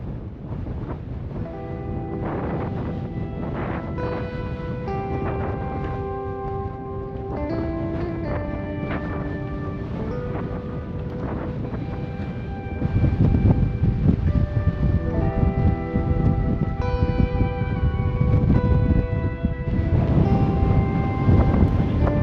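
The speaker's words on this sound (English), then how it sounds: "The wind is howling." Strong wind roars across canyon cliffs, a steady loud rush buffeting the microphone throughout and growing rougher and heavier partway through, with no talking.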